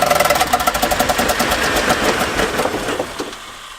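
A damaged Hummer diesel engine, revived with ether spray, cranks and catches with a loud, close, rapid knocking rhythm, then runs rough before winding down near the end.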